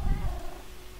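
A Minecraft cat makes a brief, close, low rumbling purr-like sound that fades out within a second.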